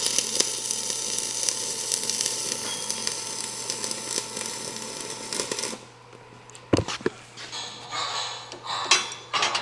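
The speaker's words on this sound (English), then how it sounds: "So I'm gonna weld half, I'll rotate it, and I'll weld the other half." Angle brackets clamped in a Fireball vise are welded in a garage for a custom canopy build: about six seconds of steady, close crackling sizzle, then the arc stops and metallic clanks and knocks follow.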